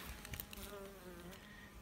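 Local honey bees buzz at a hive entrance narrowed with propolis, a faint, continuous hum with wavering tones as individual bees pass close by.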